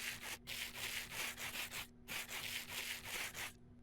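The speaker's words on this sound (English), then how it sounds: "you can either use the sandpaper polishing" Sandpaper polishing rose quartz in a Minecraft modpack, a repeated rhythmic rasping scrub in short back-and-forth strokes, steady and close with brief gaps and no talking.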